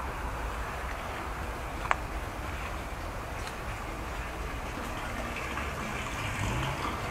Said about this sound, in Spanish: Y acá está cayendo agua.